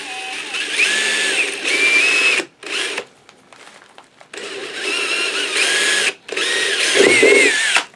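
Power drill boring a hole for a 1/4 inch coupler mount on a Starship replica model build, a loud close high whine in several bursts with short pauses, stopping almost completely midway before resuming.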